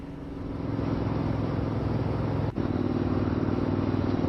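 A Triumph motorcycle ridden on Left Hand Canyon Road gives a steady engine drone that builds at the start and then holds, heard close up and alone, with a brief dip partway through.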